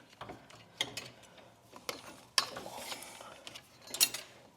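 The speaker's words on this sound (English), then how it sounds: "I'm going to pull one of these bolts out so I can lift it up, get it around the fan" A bolt is worked out of a plastic-fan transmission with close, sharp metallic clicks and ratchety rattles that come in scattered bursts, with no talking.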